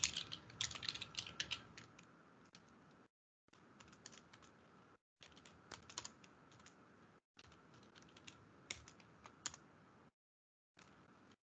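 Typing on a computer keyboard in bursts of quick, light key clicks separated by short silent pauses, close up and quiet.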